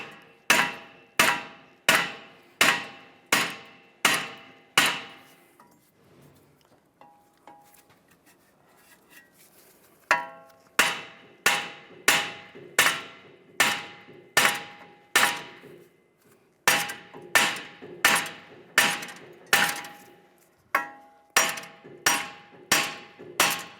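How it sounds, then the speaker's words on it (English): Hammer tapping the suspension knuckle of a 1998-2010 VW Beetle to free it from the strut, sharp metallic clangs in evenly spaced bursts of about six to eight blows, with short quiet gaps between sets. "Now we're going to take a hammer and just tap this down, get this to release from the strut."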